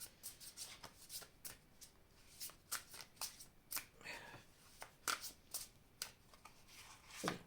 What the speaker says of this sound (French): je vais prendre oui, les cartes ici pour demander un conseil ici.